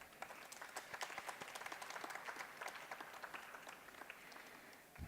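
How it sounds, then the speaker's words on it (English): An audience at a poetry event claps in a soft, continuous patter of many hands, faint and somewhat distant, swelling slightly before tapering off near the end. "Please give her a huge round of applause."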